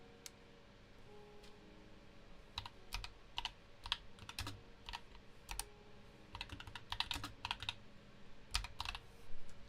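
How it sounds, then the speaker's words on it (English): Someone types on a computer keyboard in uneven bursts of close, crisp key clicks over a quiet low hum, growing busier toward the end, with no talking. "I am slow at typing right now"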